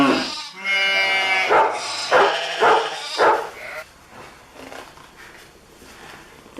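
Several dogs bark in short harmonic bursts, loud and close, mixed with bleating farm animals such as sheep and goats, after which the yelps thin out into a softer, busier animal din.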